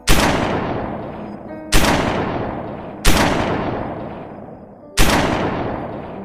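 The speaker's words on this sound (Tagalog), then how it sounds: "Umalingaw-ngaw ang putok ng baril na nagmumula sa dalawang magkaibigan" Four loud gunshots from two friends' guns fire one after another at uneven gaps, each a sharp crack trailing into a long echoing decay, set in a dramatized horror story about an aswang.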